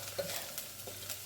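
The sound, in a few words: curry powder and turmeric added to pot, sizzling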